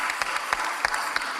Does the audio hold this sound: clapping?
yes